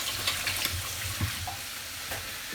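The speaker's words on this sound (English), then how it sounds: "Let me quickly wash my hands." A kitchen water tap runs steadily while hands are washed beneath it, a continuous close hiss of splashing water with small shifts as the hands move.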